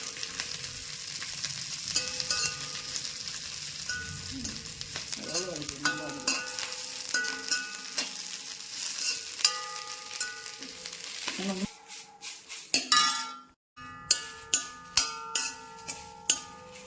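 Ingredients for curry leaf pickle fry in a pan with a steady crackling sizzle and stirring, followed by sharp metallic clinks of a spoon against the vessel near the end.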